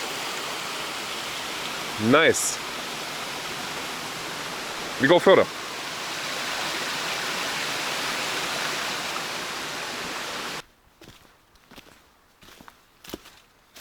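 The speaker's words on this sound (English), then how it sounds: "this is the waterfall here on this side" Constant roar of a rainforest waterfall in Springbrook National Park dominates, with two brief voices over it before the rushing sound cuts off, leaving quiet ambience and faint clicks.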